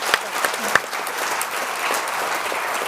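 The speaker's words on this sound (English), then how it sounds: "And I'm going to ask for another round of applause." Audience applause at a panel event, a few sharp early claps swelling into sustained crowd clapping.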